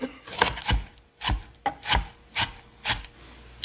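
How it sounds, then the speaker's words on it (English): Knife chopping a tomato on a cutting board, six firm rhythmic chops spaced about half a second apart, close and clear with no talking. "I'm gonna chop up about a half of a cup. Chop her up."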